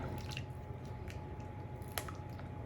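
Dates being stirred into half a cup of boiling water in a bowl for an oat cake batter, giving soft wet squishing and dripping sounds up close, steady throughout with one brief sharper clink near the end.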